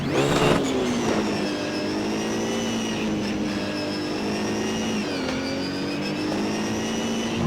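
BMW Z4 GT3 engine in the racing game Assetto Corsa at the Nürburgring GP, held at high revs as a loud, steady, buzzing drone that sits near the microphone and dips briefly as it shifts.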